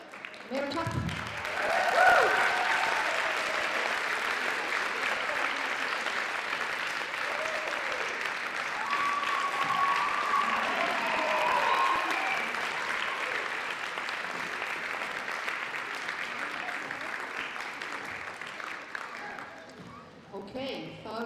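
Sustained applause from a crowd at a youth design and styling competition, a long, even wash of clapping at close range with occasional cheers and voices mixed in, fading toward the end.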